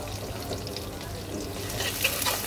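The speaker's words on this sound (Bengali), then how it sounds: "রসুনটাকে সুন্দর করে কাঁচামরিচটা দেওয়ার সাথে সাথে সুন্দর করে ভেজে নেব" Chopped garlic and green chili frying in a pan, a soft steady sizzle and crackle at close range, continuous and moderate in level, with faint background noise.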